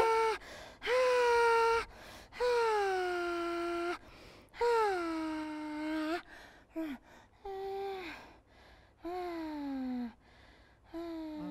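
A young child breathes hard and out of breath during an online kids' lesson, a series of loud, drawn-out voiced gasps and moaning exhales close to the microphone, separated by brief pauses.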